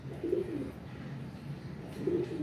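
Freshly bathed pigeons coo on a rooftop loft, two clear low rolling coos about two seconds apart over a quiet background.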